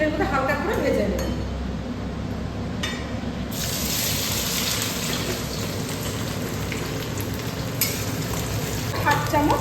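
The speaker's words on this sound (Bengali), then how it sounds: "এবার এটাকে তেলের মধ্যে হালকা করে ভেজে নেব।" Chopped onions frying lightly in oil, giving a steady close sizzle with occasional stirring clinks and scrapes throughout.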